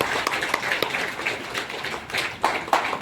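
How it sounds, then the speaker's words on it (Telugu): An audience claps together at a public meeting, a sustained patter of many hands with sharper bursts near the end, fairly close and alone without talk. "కాబట్టి అందరూ ఒకసారి చప్పట్లు వికరించాలి."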